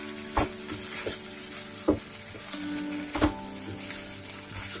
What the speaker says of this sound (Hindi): अब इसमें कसूरी मेथी डालेंगे। इसे अच्छी तरह से मिला लेंगे।